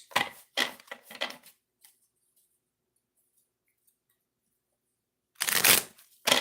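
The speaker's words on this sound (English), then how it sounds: "Do some shuffling, then we'll start." Brisk riffling bursts of cards being shuffled, two quick rounds close by, a long quiet gap, then another shuffle at the end.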